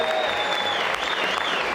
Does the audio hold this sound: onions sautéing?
no